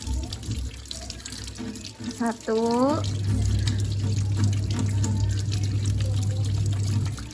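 Running tap water gushes steadily into a sink after a brief rising squeak as something is rinsed, with a person counting aloud in Indonesian over the flow.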